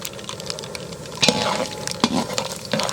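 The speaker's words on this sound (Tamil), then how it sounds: "கடுகு வெடித்தோன்னு தான் மற்றதெல்லாம் போடணும்." Mustard seeds crackle and sputter in hot oil for sambar, a dense sizzle with irregular pops and bursts, close and fairly loud, with no talk.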